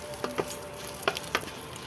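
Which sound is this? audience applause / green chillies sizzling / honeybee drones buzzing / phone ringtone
green chillies sizzling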